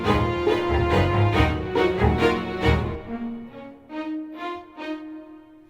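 A short orchestral music sting with string sounds, climbing in half steps through a series of sustained chords until it settles on a final held note, played alone with no talking.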